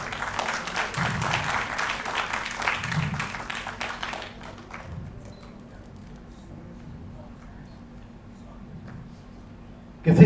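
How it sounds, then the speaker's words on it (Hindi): Audience applause at a theatre lamp-lighting ceremony, steady clapping for about four seconds that fades out into a quiet room hum, with a faint voice faintly underneath. "और आपकी तालियां"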